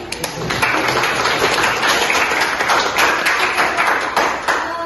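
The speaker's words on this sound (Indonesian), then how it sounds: "Kita beri tepuk tangan dulu." Audience at a school positive-culture dissemination event applauding together in a dense, steady burst of clapping that fills the room, loud and sustained, with no speech over it.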